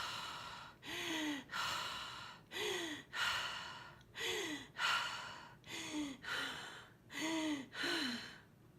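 A voice imitates a monster's panting: about a dozen heavy, rasping breaths in a steady rhythm, close and fairly quiet.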